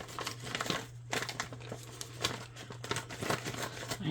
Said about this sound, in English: I have to cut that open with scissors.